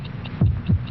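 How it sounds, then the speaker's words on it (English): Two slow, deep heartbeat thumps used as a sound effect in a 1950s Bufferin television commercial, booming low over a faint steady hum with no voice. "72 heartbeats."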